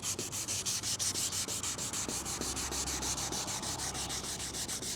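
Sandpaper rubs back and forth in quick, regular strokes over the headlight of a 2018 Lincoln MKC, giving a close, steady scratching rhythm.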